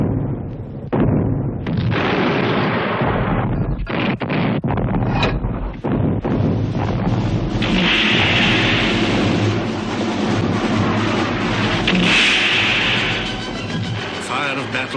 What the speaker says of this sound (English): the Allied bombardment roared out, and the mountains echoed with its thunder